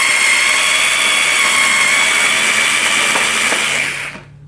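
Power screwdriver backing out the seat screws on a 2014 BMW S1000R motorcycle, a loud, close, continuous high whine that runs for about four seconds and then cuts off.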